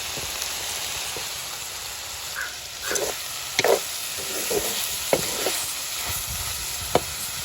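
Dried anchovies and pumpkin sautéing in a pan, an even sizzling hiss with a few knocks and scrapes of stirring scattered across it, close and fairly quiet, no talk.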